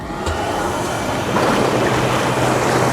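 The bubble jets of a SaluSpa Miami inflatable hot tub rush on with a steady, loud, close hiss of churning air and water that swells slightly midway and then stays constant.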